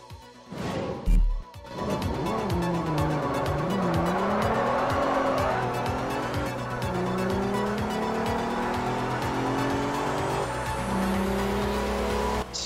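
Supercharged V6 engine of a Mercedes C32 AMG in Forza Horizon 2, revving loudly and steadily with rising and falling pitch as the car accelerates through gears, tires squealing at times, with a brief thump near the start.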